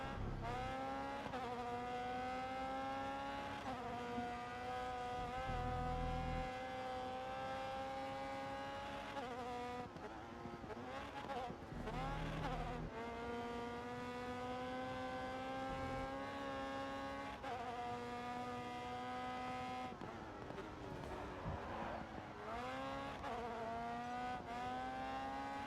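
Race car engines drone through a GRID Autosport video game race, holding steady high-pitched tones that climb and drop with gear shifts and braking, including a couple of brief scrubbing bursts, loud and continuous with no talking.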